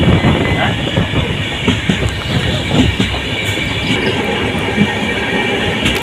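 A train running through the Dooars countryside of North Bengal on the way to the Ambubachi fair, its steady rumble and rattling wheels continuous and loud throughout, with faint voices in the background.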